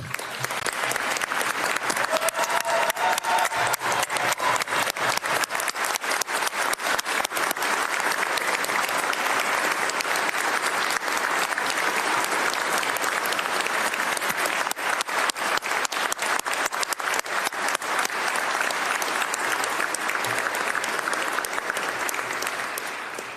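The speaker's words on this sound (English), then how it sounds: "I'm clapping on that one." Sustained audience applause fills the chamber during Minnesota's 2022 State of the State address, loud, dense clapping that continues unbroken for over twenty seconds.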